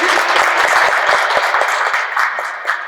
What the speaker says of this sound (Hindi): तो एक बार जोरदार तालियां हो जाए।